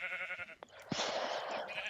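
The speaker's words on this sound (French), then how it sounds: "Allez, les moutons, on vient." A sheep in a video game bleats in a short, nasal burst, followed by a brief clatter and then a second, longer wavering bleat close up, with no voices.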